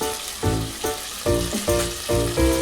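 Ginger-garlic-coriander paste sizzles in hot oil for a rustic village-style chicken curry, a loud, close frying crackle swelling in rhythmic bursts as the pan is stirred.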